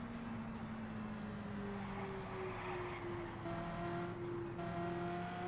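A Lotus race car at the 1965 Milwaukee 200 drones along the straight, a steady engine tone rising slightly in pitch, moderately distant and faint under trackside ambience.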